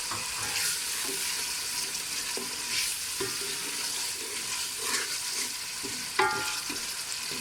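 Garam masala, salt and spices roast in a hot pan, a continuous close frying hiss broken by scraping stirs and a sharp clink near the end.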